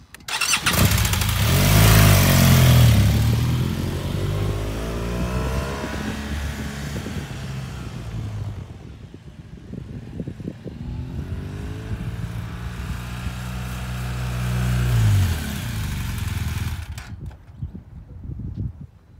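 A motorcycle engine revs up hard as the bike accelerates toward about 25 mph, then the note drops and fades as it brakes, rises again and cuts off, heard alone without talk.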